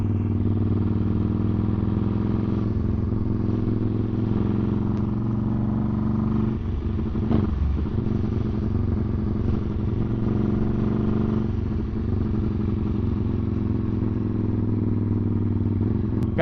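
A Honda Grom motorcycle with a swapped-in Ducati 1199cc engine rides along, its engine droning steadily and fairly loud throughout, with slight rises and dips in revs and some faint rattling over the road.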